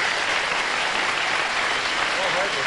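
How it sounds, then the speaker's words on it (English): A 1970s television game show studio audience claps steadily, a dense, even wash of applause at moderate volume with no break, a faint voice surfacing briefly under it near the end. "Let's have some applause for these folks."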